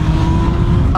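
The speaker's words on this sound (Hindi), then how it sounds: "यह शायद सबसे स्मूथ CF मोटो क्विक शिफ्टर वाली बाइक है जिसे मैंने चलाया है।" A CFMOTO 750 SR-S motorcycle runs hard at close range, its steady engine drone interrupted near the end by a quick quickshifter upshift.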